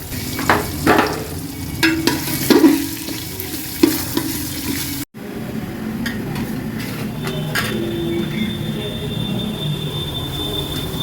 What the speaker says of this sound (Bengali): সাদা তেল দিয়ে নেব মুগ ডালটা ভেজে নেবো আগে